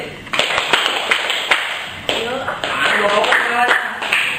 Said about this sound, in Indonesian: Contoh, tepuk tangan 4 kali.